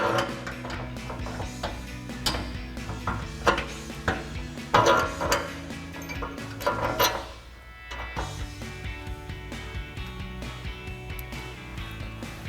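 Metallic clanks and ticks while a long frame bolt is inserted into a Barricade Reaper HD front bumper on a 2016-2023 Toyota Tacoma, with scattered close taps and rattles and a louder cluster midway.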